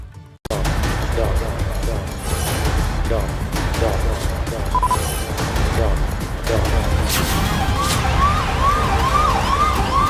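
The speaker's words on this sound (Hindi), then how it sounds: "हम एम्बुलेंस के ठीक बगल में हैं और इसी एम्बुलेंस में मुख्तार अंदर बैठा हुआ है।" An ambulance siren wailing loud and close through a police escort in Lucknow, steady and continuous, mixed with street and traffic noise and a rising, falling tone near the end.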